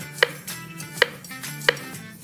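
A knife chops through taro root on a cutting board, three sharp, evenly spaced thunks close up, with quiet background noise between strikes.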